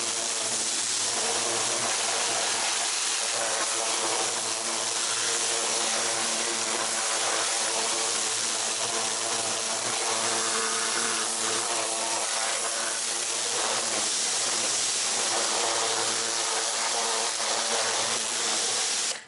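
Pressure washer with a turbo nozzle spraying the wheels of a Shelby GT350R, a steady broad hiss of water jet held at a constant level throughout, close and unbroken.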